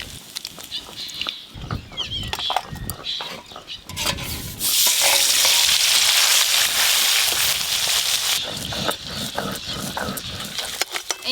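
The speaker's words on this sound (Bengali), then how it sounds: "এই মাছগুলো ভাজা হয়ে গেল।" Bhola river fish fry in hot oil in a home kitchen: scattered clatter and light bubbling give way to a loud, dense sizzle surging through the middle for a few seconds, then easing back to intermittent crackle.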